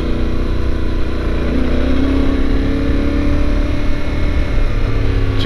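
A Yamaha Tenere 700 motorcycle rides along a gravel road, its engine droning steadily with a shifting pitch under broadband wind and tyre roar close to the rider, with no talking.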